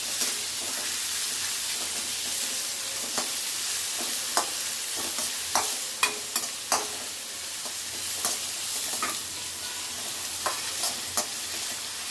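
Steady sizzling of onions, green chillies and garlic sautéing in a pan, with occasional clicks and scrapes of stirring over the constant hiss.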